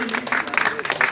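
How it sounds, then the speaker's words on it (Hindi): Clapping from an audience at an honouring ceremony held for a police station officer in Varanasi, brief and busy, with a voice speaking over it. "तालियां बजती रहे सभी के लिए"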